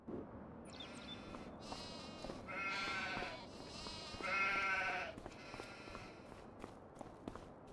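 Sheep bleat in the Farming Simulator 25 video game, several drawn-out calls in a row at moderate loudness, with light footstep-like shuffling underneath and no talking.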